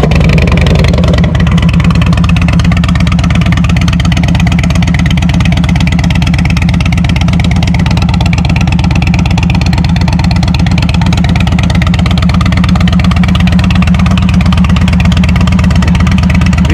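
An Indian Chief Bobber motorcycle from 2022, fitted with GP Shorty exhaust pipes with baffles, idles steadily and loudly up close, its deep rumbling pulse running unbroken with no talking.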